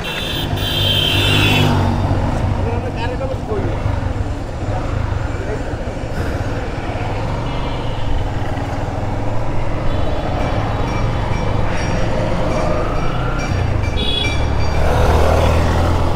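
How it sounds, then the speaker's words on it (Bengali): A second-hand Yamaha FZ V2 motorcycle engine running, giving a steady, loud, low rumble throughout, with faint voices nearby under the engine noise. "গাড়ির ইঞ্জিন"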